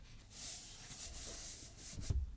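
Wax rubbed by hand onto a handmade wooden box, a steady close friction hiss that swells and eases for a couple of seconds, ending with a few soft knocks.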